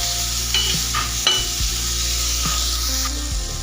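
Indian gooseberries (amla) fry in hot oil in a pan, a steady close sizzle with occasional stirring clinks and scrapes, no voices.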